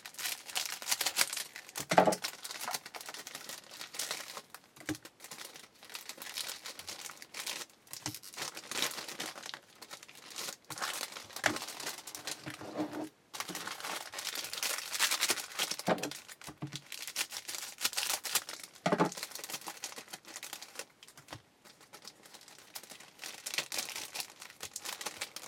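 Foil wrappers of 2001 Upper Deck golf trading card packs crinkle and tear as pack after pack is opened up close. The rustling is continuous and fairly quiet, with sharper crackles throughout and no talk.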